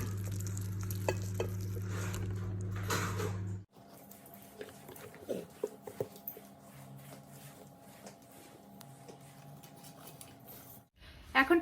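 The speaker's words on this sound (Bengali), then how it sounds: "এবার আমি যে মাছটাকে ভেজে রেখেছিলাম সেই মাছগুলো একে একে এই গ্রেভিটার মধ্যে দিয়ে বেশ কিছুক্ষণ ফুটিয়ে নেব।" Fried fish simmering in boiling gravy in a home kitchen pan, a soft bubbling sizzle with intermittent stirring scrapes and clinks, a louder stretch at the start before it settles into quieter simmering.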